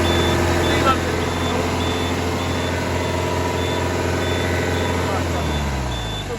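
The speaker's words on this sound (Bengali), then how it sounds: "আরও স্পিড দাও ইঞ্জিনে আরও" A new heavy truck with air brakes runs its engine hard, holding a loud, steady, close droning hum that sags near the end, while an intermittent reversing beep pulses throughout.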